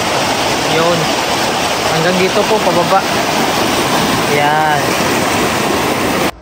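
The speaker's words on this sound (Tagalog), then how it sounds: "Pakinggan nyo yung tunog ng tubig, napaka-relax." Broad rushing river water in Greenland flows continuously and loudly nearby, with someone speaking briefly over the steady splashing roar.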